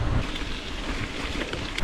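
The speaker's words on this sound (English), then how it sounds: "It's raining." Steady rain pours down during a spring bikepacking trip through Michigan's Upper Peninsula, a dense close hiss of drops mixed with gusty wind rumble on the microphone, with no voices.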